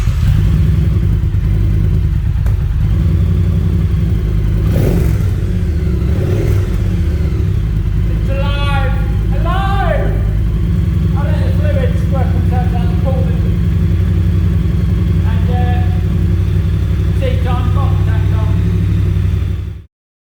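A custom Triumph bobber motorcycle engine runs at a loud, steady idle with a deep, throbbing rumble for about twenty seconds. Someone talks over it, and the engine cuts off at the end.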